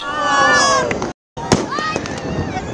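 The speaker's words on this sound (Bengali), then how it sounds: "মধ্যরাতে আকাশ জুড়ে আতশবাজির ঝলকানি" New Year's midnight fireworks in Bangladesh burst and crackle, one sharp bang standing out, with a crowd's voices and cheering mixed in and a brief silent gap.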